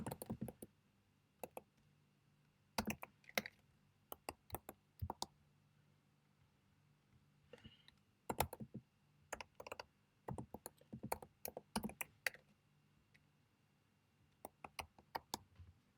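Keystrokes on a computer keyboard while entering a password, heard as quiet, close, irregular clusters of sharp clicks separated by pauses, with no talking.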